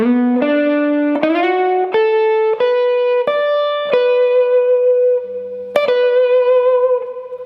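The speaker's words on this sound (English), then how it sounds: "one more time, real slow" Electric guitar plays a bluesy lick slowly, each note picked separately with pauses and slides between them, closing with a sustained ringing note.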